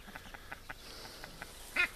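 Soft, faint quacks from large Blue Favorite breed ducks repeat at a steady pace, then one louder, sharper quack comes close near the end.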